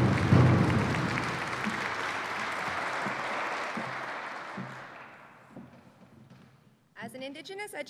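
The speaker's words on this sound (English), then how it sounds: "So let's give her another round of applause and thank you very much." Warm audience applause for Elder Marie Campbell at a university president's installation ceremony, loud at first and gradually fading away, with a voice speaking after it ends.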